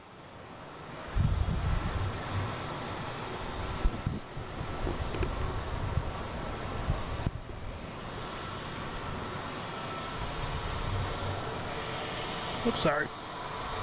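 A Delta Airbus A330-900 jet roars steadily at Boston Logan airport, a broad distant engine rumble with wind noise that holds for about fourteen seconds. A person briefly speaks over it near the start.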